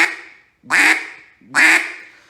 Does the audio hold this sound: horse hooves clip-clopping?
no